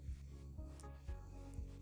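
An electric manicure drill with a red-band bit works on a man's fingernails, giving a steady motor whine broken by a few brief low grinding passes. It is quiet and close.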